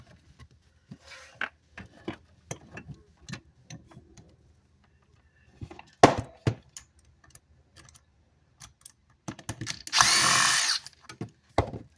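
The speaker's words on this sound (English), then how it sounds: "Hold this little nut right here. Use the drill." A power drill whirs in short bursts driving screws on a Peavey amplifier under repair, with clicks and taps between, ending in a longer, louder spin near the end; no talking.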